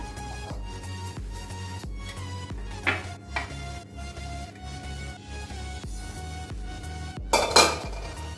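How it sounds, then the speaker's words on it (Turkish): Cooked macaroni being tipped into a baking dish for an oven-baked pasta bake, layered over crumbled cheese, with soft clinks and scrapes of a utensil against the dish and a louder clatter near the end. "Şimdi üstüne makarnamı koyuyorum."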